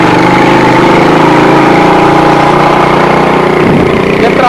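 A motorcycle engine running steadily and loud up close, a continuous rough idle-like drone that fills the whole clip with no pauses.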